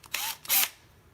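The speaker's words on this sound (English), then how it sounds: "What we like to do is just use a power drill and set it to the lowest torque" A power drill set to its lowest torque drives a headstrap knob screw in two brief, close, whirring bursts separated by a short pause.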